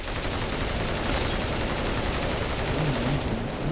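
A custom video game gun build with a Red Dot sight, G36C grip, PP19 mag and Scar L stock fires a dense, continuous automatic burst, loud and close throughout, with a little speech mixed in.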